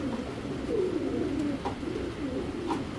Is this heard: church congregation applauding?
no